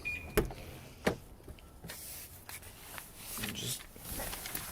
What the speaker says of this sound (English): To unlock it, just grab the handle.